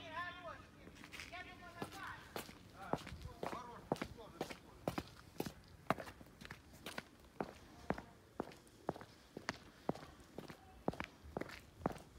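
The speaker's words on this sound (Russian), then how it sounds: "Это Геза бегает" A French bulldog runs indoors, its quick paw steps tapping in a steady fast rhythm for many seconds, close and distinct, while people talk in Russian in the background.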